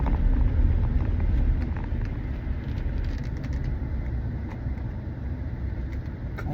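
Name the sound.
car driving by on a highway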